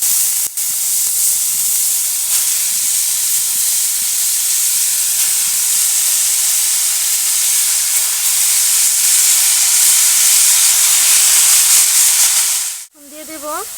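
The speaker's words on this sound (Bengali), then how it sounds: "এখন আমি দিয়ে দেব ধুয়ে রাখা বাঁধাকপি" Washed cabbage and cut potato pieces go into a hot pan, giving a loud, steady sizzle that hisses continuously close up, then cuts off abruptly near the end as a voice begins speaking.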